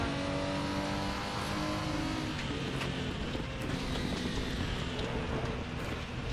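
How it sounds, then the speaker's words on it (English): A race car spinning out in RaceRoom Racing Experience: a loud, continuous engine roar with shifting revs and a rough, noisy edge like sliding tires, close and unbroken with no voices. "That was funny, just see that car spin out."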